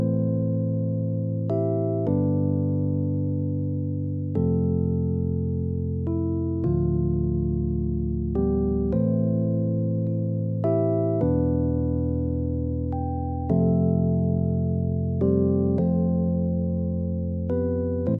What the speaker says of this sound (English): this is a e-piano sound without any effect or processing